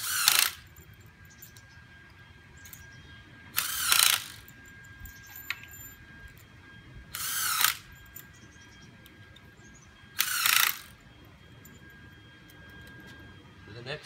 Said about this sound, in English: And then get your screws started.